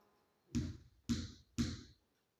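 Three firm knocks, as on a door, during a craft lesson for young children: evenly spaced, close and clean, each with a short ringing tail, followed by quiet.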